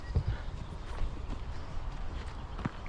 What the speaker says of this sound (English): All the cows have followed me.